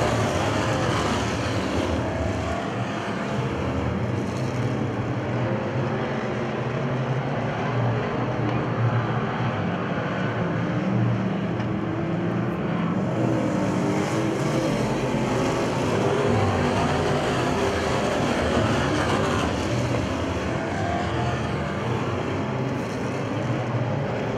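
Race cars roaring around the track at Winston just after a restart, a dense continuous engine drone with no breaks, loud and washing over the whole stretch.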